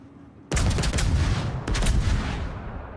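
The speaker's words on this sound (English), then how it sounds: "I can fire my guns a lot quicker" Ship's guns fire in a naval combat video game, with two heavy booming blasts in quick succession, loud and close, each fading into a long rumbling tail, with no talking.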